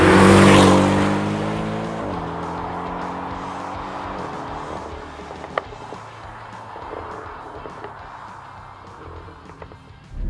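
Porsche 718 Cayman GTS flat-four engine heard from inside the car, a loud rev falling away into a steady low drone, with a single sharp exhaust pop partway through.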